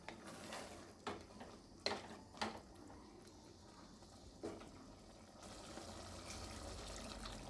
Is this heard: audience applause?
no